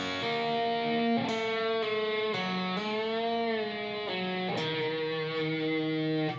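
An electric guitar slowly plays single notes with bends and vibrato from part of a blues riff, with a slightly overdriven tone, close and alone, with no talking.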